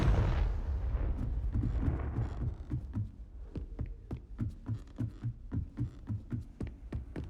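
Confringo explosive spell cast in the video game Hogwarts Legacy: a deep rumbling blast fades into a long run of soft, rhythmic crackling thuds pulsing at an even pace.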